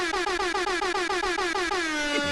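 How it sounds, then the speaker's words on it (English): A loud, blaring air horn sound effect honks in rapid repeated pulses, then holds one long sustained blast that trails off. "Air horns."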